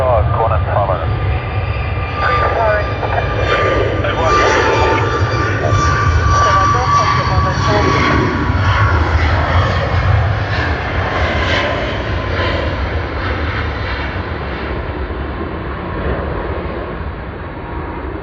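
Jet airliners taxiing to Terminal 1 at Sydney Airport, a steady broad engine roar with a low rumble that holds throughout, mixed with air traffic control radio chatter.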